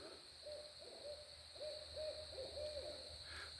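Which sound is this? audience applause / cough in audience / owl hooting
owl hooting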